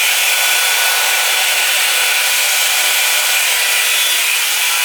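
A Revlon One Step hair dryer brush blows continuously while drying hair on a 1.5-inch round brush, a loud, steady, close-up whoosh of hissing airflow with no pauses.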